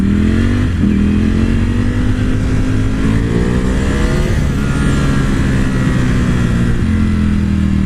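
Ducati Panigale motorcycle accelerating hard, its engine loud and close with a sustained rising roar and a brief gear-change dip partway through, no voices.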